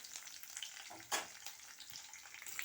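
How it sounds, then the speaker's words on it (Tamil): Garlic, small onions and curry leaves fry in hot oil for a sambar-style tamarind curry, giving a steady close sizzle with a brief louder crackle burst near the middle and no talk. "இப்போ பூண்டு, சாம்பார் வெங்காயம் போட்டுட்டேன்."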